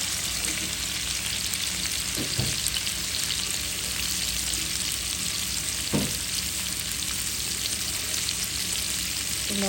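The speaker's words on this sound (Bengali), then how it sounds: "করলা ভেজে নিব।" Bitter gourd frying in a pan, a steady, even sizzle throughout with two brief stirring knocks, close and moderately loud, no talking.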